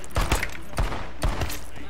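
Gunshots in the battle royale game H1Z1, with several sharp reports in quick pairs spaced across two seconds, moderately loud over a faint background hum.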